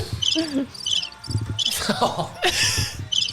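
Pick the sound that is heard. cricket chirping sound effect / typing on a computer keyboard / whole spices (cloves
cricket chirping sound effect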